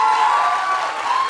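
Audience applause greets two women in uniform, a steady wash of clapping with some crowd noise, brief and fairly loud throughout.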